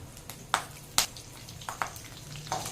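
Cumin, bay leaf and slit green chillies sizzle in oil over a low flame for rice, a steady close frying hiss broken by several sharp pops and crackles, with no talking.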